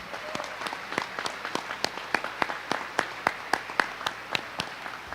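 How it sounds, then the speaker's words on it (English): Scattered, sharp claps from a small crowd at a high school graduation, a fairly sparse round of applause with distinct individual hand claps continuing steadily. "give all these outstanding students a round of applause"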